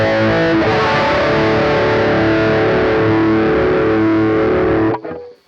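An electric guitar played through a Vox MV50 head with a treble booster in front rings out as a dense, distorted, sustained chord wash, loud and continuous, then cuts off abruptly near the end.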